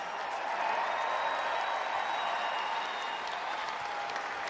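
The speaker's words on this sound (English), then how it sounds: "how about a round of applause for the hard-charging Providence Friars?" Sustained applause from a large basketball arena crowd at the 2018 Big East Tournament final, steady and even throughout with a faint whistle over the clapping.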